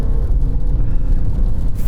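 Low, loud engine rumble of an all-wheel-drive Audi car pulling away under launch control, a short continuous surge with no talk over it.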